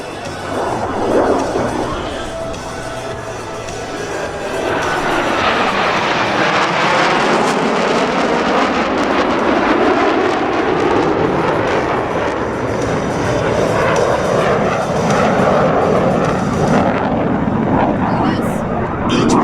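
US Navy Blue Angels jets at the 2014 Rhode Island airshow in Quonset, breaking away in individual turns: a loud, sustained roaring jet-engine rush with shifting pitch, over crowd noise and a public-address voice.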